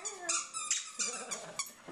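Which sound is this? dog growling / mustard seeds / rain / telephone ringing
dog growling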